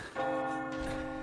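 A single resonant bell in the Resident Evil 4 Remake video game strikes once and rings on with a sustained, humming tone that fades slowly.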